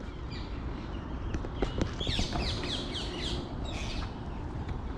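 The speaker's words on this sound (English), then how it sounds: "there's lots of parakeets, parrots and all sorts in various parks." Wild parakeets in a London park give shrill, squawking calls in several bursts over steady outdoor background noise, moderately distant, with occasional sharper chirps and no talking.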